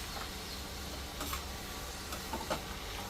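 Food roasting in a pan on a home stove, a steady soft sizzle with faint stirring scrapes and a few light clicks, fairly quiet and without voices.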